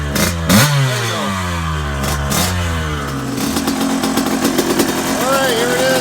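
A 1980 Suzuki RM125 two-stroke motorcycle engine, just started with the choke being turned off, revs up and down close by, loud and raspy, settling into a rough, crackling idle with quick throttle blips.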